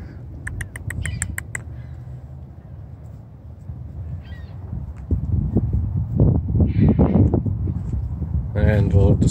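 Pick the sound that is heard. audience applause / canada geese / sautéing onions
canada geese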